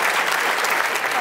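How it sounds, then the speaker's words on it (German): Studio audience at a German football talk show applauds, with dense, steady clapping throughout the short burst and no voices on top. "So, jetzt der Applaus."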